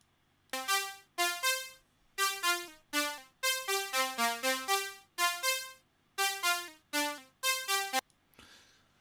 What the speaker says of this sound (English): just a straightforward, very simple synth line